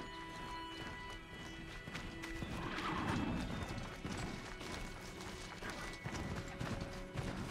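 A horse mount in the video game Horizon Zero Dawn gallops with steady clip-clop hoofbeats and neighs amid game ambience, with no talk over it.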